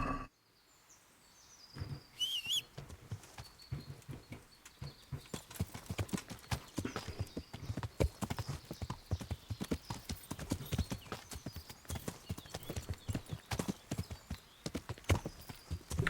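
Horse hooves clip-clop at a steady gallop in the medieval action role-playing game Kingdom Come: Deliverance, close and continuous, with a brief whinny near the start.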